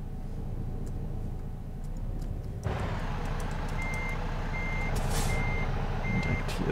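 A truck maneuvers with a steady series of evenly spaced reversing beeps sounding over a low idling engine rumble, the beeps starting partway through and repeating at a regular pace.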